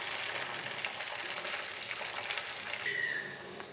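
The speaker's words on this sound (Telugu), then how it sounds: "ఇవి గోల్డెన్ కలర్ వచ్చేదాకా ఫ్రై చేయండి." Poha bites fry in oil until golden, a soft, even sizzle holding steady throughout, fairly faint and with no voices.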